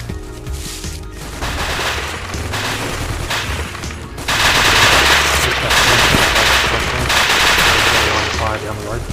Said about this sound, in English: Not a good idea to enter here, mate, still under heavy fire.